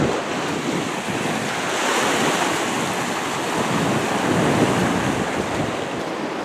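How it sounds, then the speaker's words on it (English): Strong wind roars across an East Coast ocean beach, with breaking surf blended into a steady, loud broadband rush that swells slightly midway and never lets up. "It'd be alright if it wasn't for the wind"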